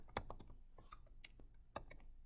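Typing on a computer keyboard while entering unit comments for an ideal gas calculation, heard as irregular clusters of sharp, close clicks with short pauses between bursts.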